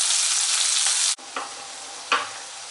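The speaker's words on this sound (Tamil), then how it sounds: "இப்போ தக்காளி சேர்த்துக்கலாம். 2 பெரிய சைஸ் தக்காளி எடுத்திருக்கேன். தக்காளி வதங்கிறதுக்கு தேவையான அளவு உப்பு சேர்த்துக்கலாம்." Two large tomatoes with salt fry in a pan, a loud close sizzle that drops off after a second, followed by a softer frying hiss with a couple of stirring scrapes.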